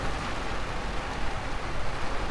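Rain in the farming and exploration video game Lightyear Frontier, a steady, even wash of rainfall noise with no talking.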